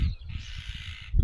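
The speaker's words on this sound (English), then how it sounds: "Is that bird?" An outdoor bird call near Inverness sounds as a sustained, harsh, hoarse note lasting about a second, clear and fairly near over low wind or traffic rumble.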